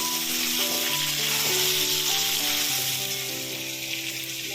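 Cut potatoes frying in oil with bay leaf and dried chillies, a continuous close sizzle, with a steady tonal hum running underneath and no talking.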